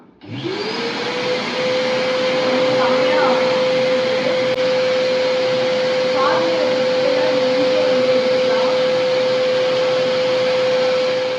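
Household vacuum cleaner with a metal hose attached, switched on and spinning up within a second into a loud, steady high-pitched whine and rushing airflow that holds constant to the end.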